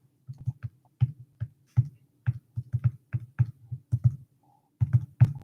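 Keys on a graphing calculator keypad pressed in irregular bursts of sharp, close plastic clicks, about two dozen presses with short pauses between groups, alone.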